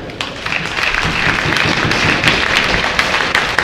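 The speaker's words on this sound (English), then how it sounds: "And a round of applause to each one of them." Steady applause from an audience at a GACA all-star boys seniors event, many hands clapping in a dense, loud patter that holds evenly from start to finish.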